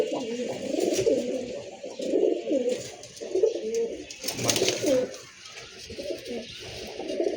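Rocket-line pigeons coo in repeated low, throaty phrases close by, the bursts rising and falling over several seconds, with a brief noisy rustle midway.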